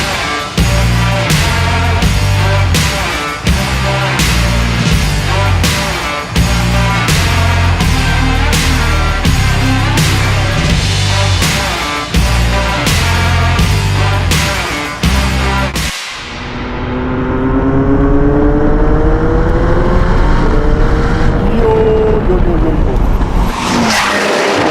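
A McLaren 720S fitted with a Novitec exhaust sends out rapid, rhythmic blasts of loud engine roar. A deep, sustained rev then climbs in pitch and fades briefly before swelling again.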